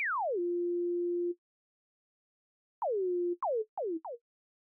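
Six Sines synthesizer sine tones shaped by a pitch envelope: one long tone sweeping down into a steady low hum, then after a pause a quick run of four short downward-bending blips, clean and isolated.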